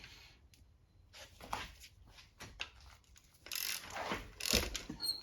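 A ratchet with a spark plug socket works spark plugs loose on a 2012-2015 Honda Civic, making quiet, close clicking and ratcheting bursts in short uneven runs, with no talk.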